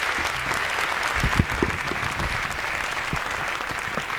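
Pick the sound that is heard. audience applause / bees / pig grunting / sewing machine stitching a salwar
audience applause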